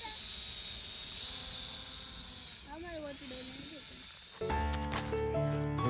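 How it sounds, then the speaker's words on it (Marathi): The high, buzzing whine of a drone's motors, its pitch gliding up and down before it suddenly grows louder and harsher near the end. "ड्रोन उडवता मिहिरला ड्रोन उडवता आला ना"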